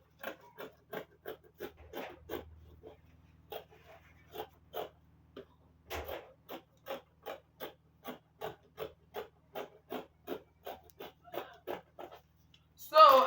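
Scissors snip through gown fabric in a steady series of short, crisp cuts, close and fairly quiet, with a pause mid-way and a louder rustle at the end.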